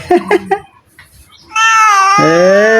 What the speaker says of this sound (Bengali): এই যে বিড়ালু রেডি এদিকে চলে আসছে